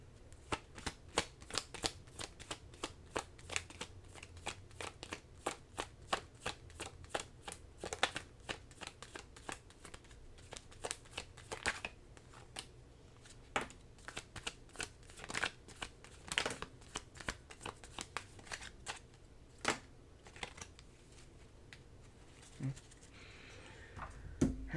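Tarot cards are shuffled close up and quietly in a steady run of crisp riffling and slapping flicks, repeated many times over about twenty-five seconds.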